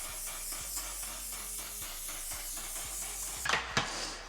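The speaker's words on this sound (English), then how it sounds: "You gotta hold your breath when you spray that." Makeup setting spray hisses from a nearby bottle in a steady, bright mist, with two sharp, louder spritzes close together near the end.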